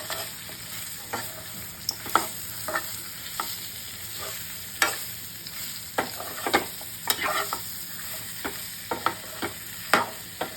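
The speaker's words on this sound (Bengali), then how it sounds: "এই পেঁয়াজ স্লাইস করে কেটে দিয়েছি। ধিমি আছে, এটাও ভাজবে।" Sliced onions and mushrooms frying gently in a little oil over low heat, a soft continuous sizzle broken by repeated sharp scrapes and clicks of stirring spaced a second or two apart.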